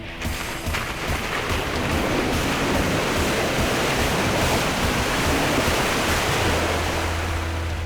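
A Jeep Wrangler JK ploughs through icy water, giving a loud, continuous churning splash and rushing wash with a low engine hum beneath, steady for several seconds without talk.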